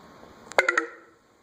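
A mobile phone sounds a short low-battery alert of three or four quick electronic beeps in a tight cluster, fairly close and clear in an otherwise quiet room.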